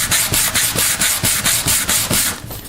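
Rough 80-grit sandpaper rubbed by hand in a steady back-and-forth rhythm, about a dozen close, loud scraping strokes roughening a surface before applying JB Weld, with no voices.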